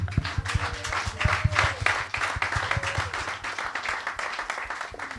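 Church congregation at a Sunday worship service clapping in a steady rhythmic beat, sharp regular claps over a continuous crowd wash, with faint singing or voices in the background.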